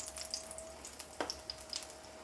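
Chicken patties in batter frying in a pan, a quiet steady sizzle with faint crackles and a few brief pops, heard alone without speech.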